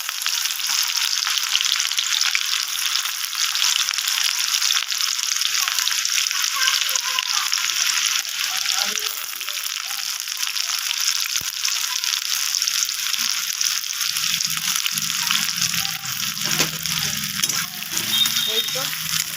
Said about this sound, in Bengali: এখানে কড়াইয়ে তেল গরম করতে দিয়ে দিয়েছি। এখন পেঁয়াজটা ছেড়ে দেবো এর মধ্যে।